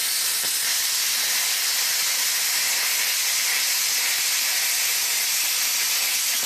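Pilot arc 50 amp plasma cutter slicing through 4 mm metal, giving a steady, loud hiss like rushing steam that holds constant throughout with no talk.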